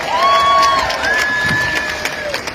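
A protest crowd in Newcastle against the prorogation of Parliament cheers and claps, with a long sustained whoop or whistle rising over dense, loud crowd noise and scattered applause.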